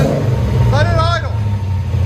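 A cammed LS3 V8 swapped into a 1995 Nissan 240SX, breathing through long tube headers and a Borla Pro XS exhaust, idles with a steady low rumble throughout. A voice speaks briefly over it.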